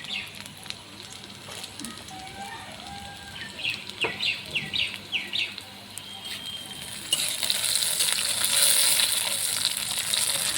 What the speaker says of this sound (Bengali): গাজরগুলোকে ভেজে নিচ্ছি।